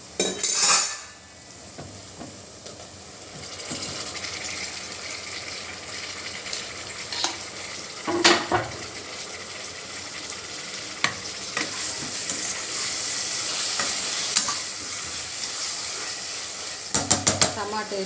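Chopped tomatoes fry and get stirred in a curry pan with ginger-garlic paste, a steady sizzle running throughout under repeated spoon scrapes and clinks against the metal, with a few louder knocks near the start and end.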